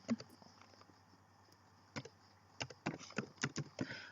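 Keys tapped on a computer keyboard while a button caption is entered in capital letters, a few isolated clicks early and then a quicker burst of close, quiet keystrokes toward the end.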